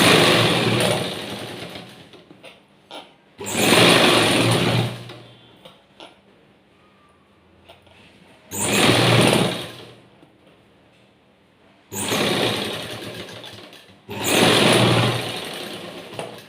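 Sewing machine stitching a blouse in short, repeated bursts, four or five loud runs of stitching separated by quieter pauses with faint handling noises, close up and alone with no talk.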